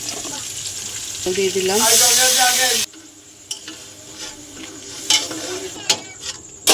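Crabs fry in a pan with red chili powder, green chilies and tomato: a loud sizzle with a rising whine, then a quieter sizzle broken by spoon clanks and stirs, with a voice speaking at times.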